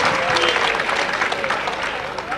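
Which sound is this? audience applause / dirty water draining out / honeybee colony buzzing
audience applause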